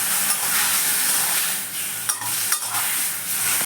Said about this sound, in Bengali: এবার আমি আবার একটু কষে নেব।